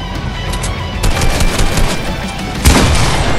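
Loud, dense video game gunfire rattles continuously in a close automatic stream, with a heavier burst near the end as a headshot lands.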